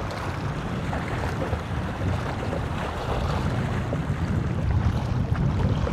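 Gusty sea wind roars continuously around a small fishing boat off Perth, a dense, loud rumble of wind noise and water swell that builds slightly toward the end, no one speaking.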